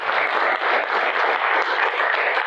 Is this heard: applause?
yes